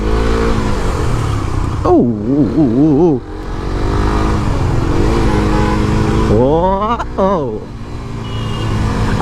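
A 250 cc Suzuki Gixxer SF motorcycle pulls away on a group ride, its engine revving up and down in loud wavering surges close by, with wind noise throughout and a brief voice.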